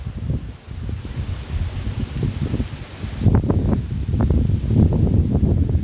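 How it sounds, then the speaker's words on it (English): Gusty wind buffets the microphone with low rumbling bursts that grow stronger toward the end, with no one speaking. "Oh, it's windy the day."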